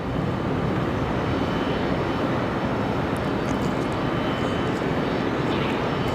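A Republic Airways Embraer E175 jet takes off from Raleigh-Durham International, bound for LaGuardia, its engines a steady, broad roar that holds without letup throughout.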